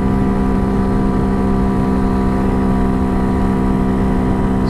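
Honda Hawk DLX dual-sport motorcycle running at full throttle on an upgraded sprocket and chain: a loud, constant engine drone with strong tonal harmonics, unbroken throughout, with no talking.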